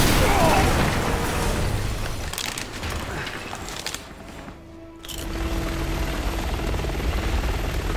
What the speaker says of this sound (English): The chopper's pulling back.